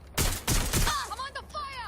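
A burst of gunfire in Watch Dogs Legion: several loud, sharp shots crack in quick succession during the first second, then give way to fainter game sounds and warbling tones.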